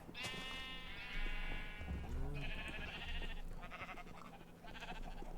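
Sheep in a video game bleating several times in a row, clear wavering cries close by, with a few overlapping calls and a soft background hum.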